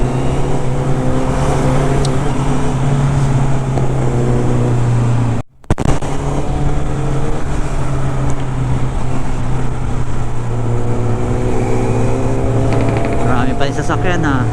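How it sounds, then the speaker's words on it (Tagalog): Steady roar of a motorcycle riding through traffic on the Marilaque highway, with engine drone and passing vehicles throughout and a brief dropout midway. "Marami pa rin sasakyan ha."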